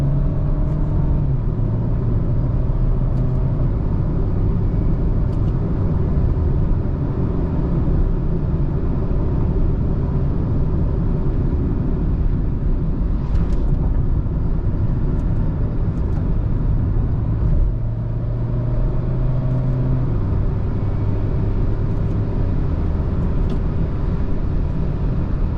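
Renault Clio IV with a dual-clutch gearbox drives along, a steady low engine and road rumble from inside the cabin with subtle shifts in pitch, continuous and moderately loud.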